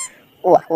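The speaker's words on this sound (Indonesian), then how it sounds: "Ini ada bebek, bebek angsa." A goose gives two loud, close, nasal honks in quick succession after a brief quiet moment.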